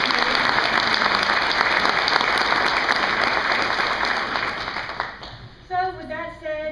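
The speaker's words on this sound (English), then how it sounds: "all of you deserve a round of applause." Applause fills the room at an awards breakfast, a dense, sustained burst of clapping from the audience that fades out after about five seconds, followed by a voice speaking.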